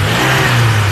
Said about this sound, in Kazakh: Басшы газды көрейін.